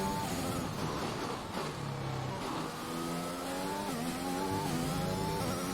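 A Formula 1 car races at Imola in the F1 2021 video game, its high engine revving up and dropping through gear shifts in a continuous loud whine.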